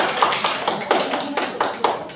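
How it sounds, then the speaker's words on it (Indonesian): Classroom applause for a student, a quick burst of clapping with sharp uneven claps from several children, close and fairly loud. "Tepuk tangan untuk Arik Ferin."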